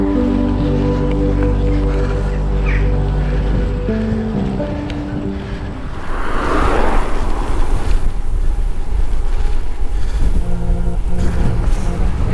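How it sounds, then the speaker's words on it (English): Strong wind buffets and roars for several seconds in a town in Pembrokeshire, rising into heavy gusts partway through after a steady low rumble. "It's so windy."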